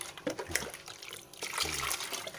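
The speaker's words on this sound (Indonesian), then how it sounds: "Aduk terus sampai kapurnya larut." Lime stirred into water in a bucket, sloshing and trickling liquid with swirling splashes, close by and with no talking.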